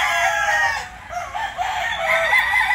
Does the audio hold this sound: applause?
no